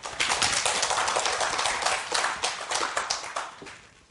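Congregation clapping in a church service, a burst of many hands applauding together in a dense rhythmic patter that fades slightly toward the end.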